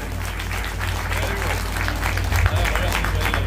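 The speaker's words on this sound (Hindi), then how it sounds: "जोरदार तालियां बजाएं।" An audience claps loudly at an award ceremony honoring teachers and students, a thick, continuous wash of hands over a low hum, with crowd voices mixed in.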